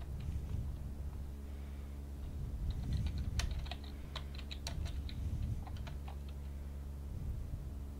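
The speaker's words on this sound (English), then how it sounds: "Nice typing. Quality typing." Fingers type on a computer keyboard, tapping out irregular bursts of sharp clicks over a low background hum, close and moderately loud with no talking.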